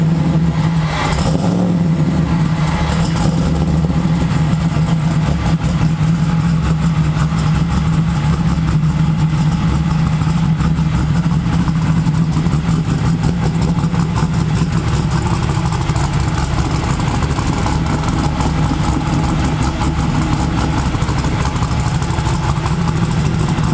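A car fitted with a 454 LSX engine idles with a loud, steady, rough throb, continuous and close, with no talk over it.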